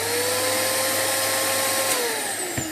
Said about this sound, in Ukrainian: я включу пилососа на декілька хвилин, хай він попрацює